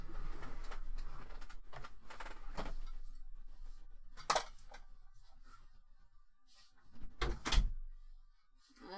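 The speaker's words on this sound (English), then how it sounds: "I'll close the door." A door swings shut indoors with a sharp, fairly close thud, followed a few seconds later by a second cluster of knocks and rattles, against a quiet room with faint background noise.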